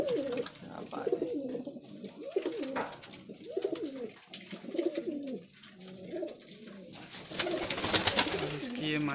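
Desi and Punjabi flying pigeons coo repeatedly in soft, throaty rolling phrases close by, with a background murmur of other birds and outdoor noise.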